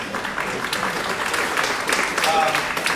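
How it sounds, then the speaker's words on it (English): Steady applause from an audience fills the whole stretch, a dense wash of clapping at moderate volume with no pauses. "That, you can applaud for that."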